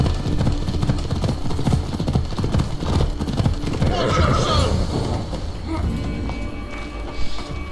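A horse gallops in Assassin's Creed Odyssey with rapid, steady clip-clop hoofbeats, a brief whinny and game ambience underneath, while someone talks over the ride.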